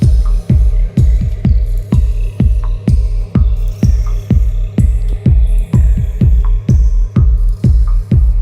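A punchy, tightly compressed drum loop through a Glue Compressor with a steady kick-and-snare groove, loud and continuous, evenly leveled hits repeating for several bars.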